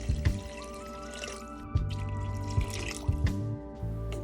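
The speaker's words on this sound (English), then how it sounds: "Add 6 cups of water. I'm just using tap water here." Tap water, about six cups, pours into a cooking pan for Filipino lugaw. It splashes and trickles close up with uneven drips and small surges, while soft background tones sit underneath.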